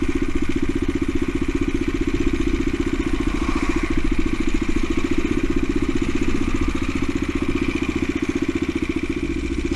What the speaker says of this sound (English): the exhaust note is just the right side of loud